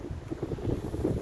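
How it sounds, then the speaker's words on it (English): Gusty wind buffets the microphone in low, uneven rumbles throughout the short moment, on a cold day at a fishing lake. "It's been very cold and windy today."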